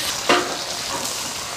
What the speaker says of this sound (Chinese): 把锅置好过后下豆腐煎